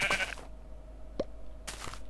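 A single short sheep bleat from the Minecraft video game sounds faintly amid quiet game ambience, with a couple of soft clicks and a brief noisy burst around it.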